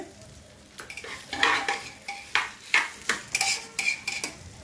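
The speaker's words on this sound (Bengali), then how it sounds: "এই চালটাকে ফ্রাই করছি, গ্যাসটা এখন ফুল আছে" Rice fries in a pan over a gas flame turned fully up, with a soft sizzle under repeated scraping stir strokes of a spoon against the pan, coming in an irregular rhythm, close and fairly quiet.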